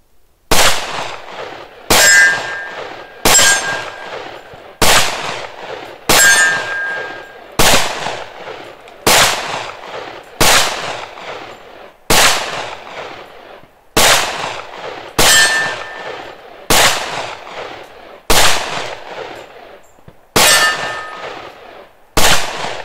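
Gunshots from a Springfield XDm 4.5 10mm pistol firing MagTech 180 grain ammunition: about fifteen loud, sharp reports at a steady pace of roughly one every one and a half seconds, each ringing briefly into a short echo, with no talk.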